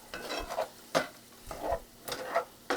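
Shrimp scampi being stirred in a hot pan, with a steady sizzle broken by several distinct scraping strokes of a utensil against the pan, close and fairly quiet, with no talking.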